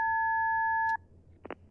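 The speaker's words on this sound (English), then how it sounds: "Please leave your message after the beep." An answering machine beep: a steady two-tone electronic tone held for about a second, then cut off, followed by a faint click and low background hum.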